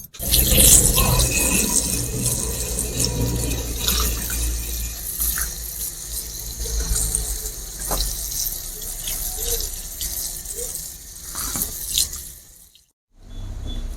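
Tap water runs steadily over cut river fish being washed in a kitchen sink, a continuous close splashing wash that carries on for most of the stretch before a short pause near the end.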